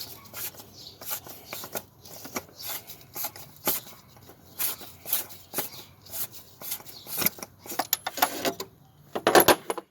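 Metal clinks and rattles of a socket and ratchet being taken off a car's drain plug during a DIY oil and filter change, a series of close, sharp handling clatters with no talking.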